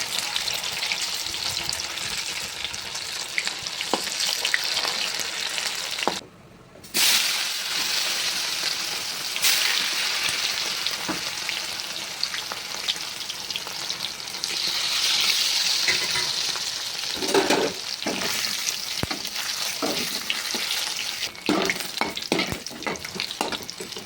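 Sliced bitter gourd fries in hot oil in a pan, a steady bright sizzle with scraping stirs and occasional clinks, one brief pause midway, no talking.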